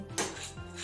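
Crisp, dried fried ingredients for a restaurant-style paneer biryani are handled and stirred, giving a short, close, dry rustling crunch with a brighter burst near the start.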